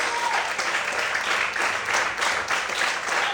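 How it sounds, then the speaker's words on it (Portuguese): Congregation applauding during a church service, a loud, sustained wash of many hands clapping at once, filling the room steadily from start to finish. "Você pode aplaudir e exaltar a Deus."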